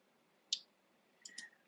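Two quiet mouse clicks in an app builder, a single crisp click early on and a quick double click a moment later, close and dry against near silence.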